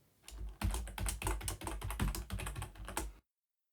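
Rapid clicking keystrokes on a computer keyboard as a password is entered, a quick close burst of taps lasting about two and a half seconds before stopping abruptly.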